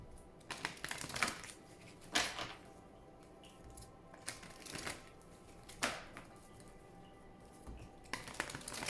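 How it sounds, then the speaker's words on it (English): Oracle cards being shuffled in irregular bursts of crisp riffling and tapping, quiet and close, with pauses between handfuls. "Please think of your question as I shuffle the cards."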